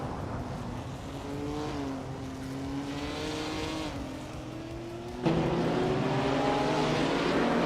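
Vintage race cars snake through the tight Zandvoort chicane in a racing video game, a continuous engine drone gliding up and down in pitch through the shifts, then jumping louder and brighter as another car roars in close near the end.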